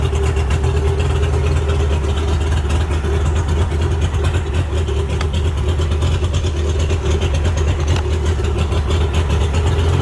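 A Mercury 60hp outboard motor on a Bass Tracker boat idles steadily, a loud, continuous low rumble with a constant hum and no pauses or talk.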